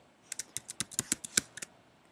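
Crisp keystrokes on a computer keyboard, about a dozen quick taps in an uneven rhythm, close and clear, with no voices.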